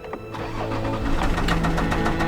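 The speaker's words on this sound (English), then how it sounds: "Oh, same knocking, and it turned off on its own." A Range Rover L405 diesel engine, freshly rebuilt and on new fuel, cranks and catches into a rough running note with a steady knocking rattle throughout, close and fairly loud with no voices.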